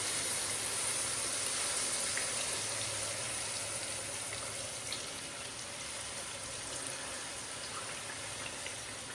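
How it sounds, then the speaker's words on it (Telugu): Water pours into a cooking pot holding a tamarind and mango mixture, a continuous close hiss and gush that fades slightly toward the end, with no voices. "శుభ్రంగా నీళ్ళు పోసేస్తాను"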